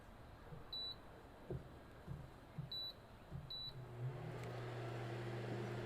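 Three short electronic beeps from an induction cooktop being switched on, spaced apart and fairly clear, followed by a low steady hum as the hob starts up.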